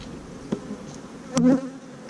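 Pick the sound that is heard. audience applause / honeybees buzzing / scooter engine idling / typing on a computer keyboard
honeybees buzzing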